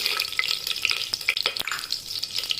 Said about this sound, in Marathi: तुपामधलं लवंग, दालचिनी, वेलची टाकूया.